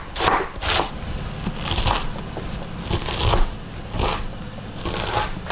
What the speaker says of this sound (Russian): Теперь тонко нарежу капусту.